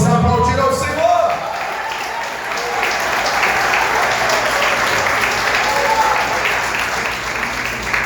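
Congregation applauding in a church service, a steady dense wash of clapping that swells near the start and holds loud and continuous throughout.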